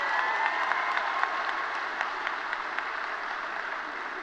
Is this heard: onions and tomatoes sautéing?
no